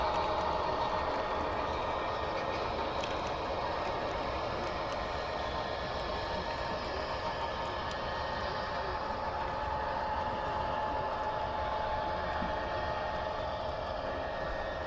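Model train locomotives running on a small loft layout, a constant low rumbling hum of motors and wheels on track, even and unbroken throughout.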